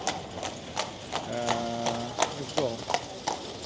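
Horses' hooves clip-clop in a steady, even rhythm on a street crowded with tourists. People talk nearby and briefly over the hoofbeats.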